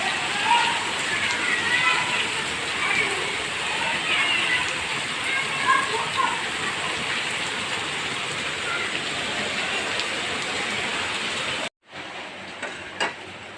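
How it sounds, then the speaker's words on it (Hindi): Heavy rain pours down in a dense, constant hiss, loud and close, with the sound briefly cutting out near the end. "होने लग गई झमाझम बारिश।"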